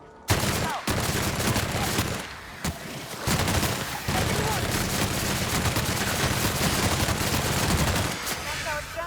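Sustained heavy gunfire from The Outer Worlds, loud and dense, rolling almost without pause for several seconds, with a couple of brief gaps early on.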